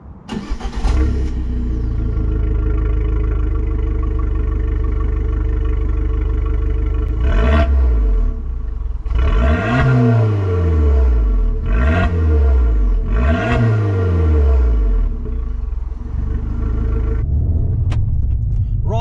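A Fiat 500 Abarth 595 hatchback accelerates hard from a standstill to 60, its small turbocharged engine revving up loudly through several quick gear changes, each climb in pitch broken by a brief dip, heard from inside the car with no talk.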